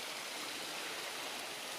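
Steady broadband rush of water pouring from a public fountain near a church outdoors, a continuous close hiss with no breaks and no voices.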